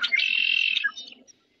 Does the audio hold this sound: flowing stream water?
no